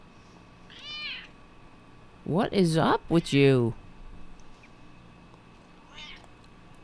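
A house cat meows loudly and close by in a run of drawn-out, insistent cries, with softer meows before and after; someone speaks to it briefly.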